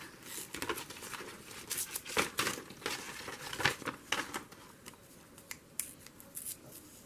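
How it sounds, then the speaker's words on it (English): Paper being ripped out by hand for a junk journal, a series of close, sharp tearing and crinkling bursts in quick succession with short pauses between them. "I just rip this out."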